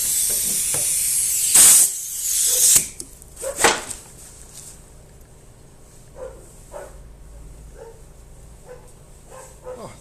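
Compressed air blasts dust off a metal mower body during restoration after grinding and before body filler, a loud steady hiss for nearly three seconds that stops, then brief bursts, with quieter workshop sounds and distant dogs after.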